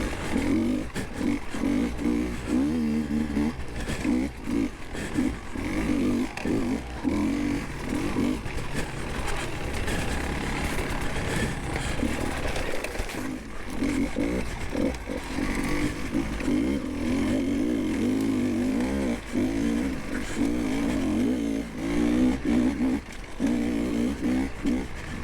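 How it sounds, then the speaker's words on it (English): Several Beta 200rr two-stroke dirt bikes ride through New Jersey snow, their engines buzzing and revving continuously at varying distances, with throttle blips rising and falling throughout. "I'll just leave you with the sounds of some two-strokes riding in New Jersey snow"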